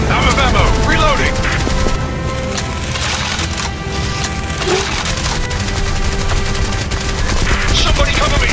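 Video game gunfire, dense rapid bursts and crackling shots in a continuous loud barrage with voices calling out through the battle.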